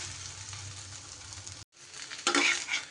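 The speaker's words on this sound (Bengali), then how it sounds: "দিয়ে এদিকটাও এইভাবে ভেজে নিতে হবে।" Vegetable toast fries in a pan with a soft, steady sizzle that cuts off briefly, then resumes louder and brighter as the slice is turned, with a faint low hum beneath.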